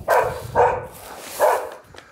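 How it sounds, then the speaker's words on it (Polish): Dogs bark three times in short, separate bursts, near and fairly loud, on a tobacco farm late in the season, with quiet background noise between barks. "Co, pieski, chcecie mi pomóc?"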